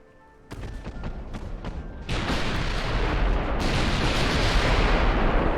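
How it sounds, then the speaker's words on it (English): A naval armor-piercing gun salvo in Ultimate Admiral Dreadnoughts, with several sharp reports in quick succession followed by a heavy, sustained roaring boom that swells and rolls on, loud and close. "Let's go for an AP salvo at this range"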